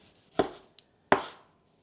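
Two crisp knife cuts thinly slicing a tomato onto a board, close and clear, with a faint tap between them.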